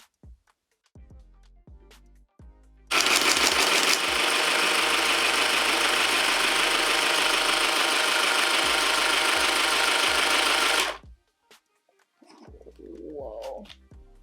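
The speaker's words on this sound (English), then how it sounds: "You can wind a bobbin." A handheld sewing machine winds a bobbin with a loud, continuous buzzing motor whir lasting several seconds, bracketed by faint clicks and handling noises before and after.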